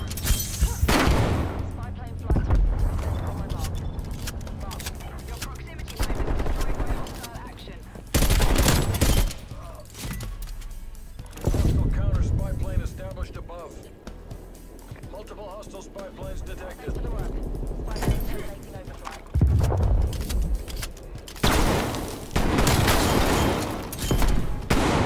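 Shotgun blasts in a Black Ops Cold War free-for-all match, heavy loud booms recurring every few seconds amid ongoing gameplay noise and a talking voice.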